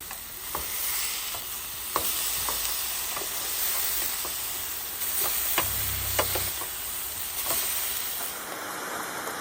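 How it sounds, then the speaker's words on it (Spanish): Hamburgers frying in a pan, a steady broadband sizzle with scattered sharp pops and crackles, close and continuous, plus a soft low rumble partway through. "Antes de mojarme voy a tratar de hacer unas hamburguesas para comer unas ricas hamburguesitas"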